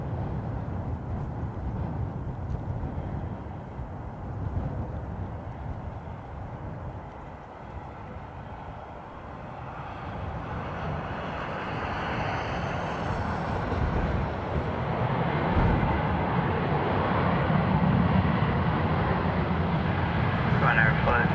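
Jet engines of airliners at Dublin Airport spool up with more power applied, a broad rumbling roar building steadily louder from a distance, with faint radio chatter and voices underneath.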